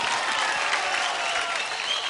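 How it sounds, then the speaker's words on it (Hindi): A studio audience on a dance show applauds steadily for a performer, a dense wash of clapping with no gaps, moderately loud throughout. "शम्मी के लिए तालियां, शम्मी के लिए तालियां।"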